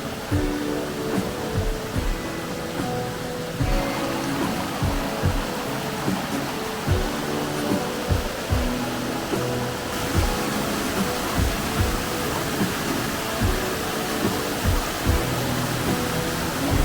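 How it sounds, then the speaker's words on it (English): A waterfall near Whangarei, New Zealand, heard from the rocks at its top: a steady, loud, broadband rush of falling water that continues throughout, with faint low thuds beneath. "Approach the falls at the top and walk out onto the rocks to the falls."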